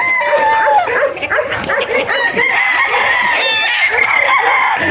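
Roosters crow loudly and continuously at a gamefowl yard, several birds overlapping with sustained calls, while clucking and a barking dog mix in the background.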